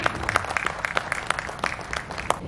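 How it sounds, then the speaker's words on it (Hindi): An audience at a tribute event claps in a loose, uneven patter, individual sharp hand claps standing out against a thinner background of applause. "आपकी बहुत सारी तालियां"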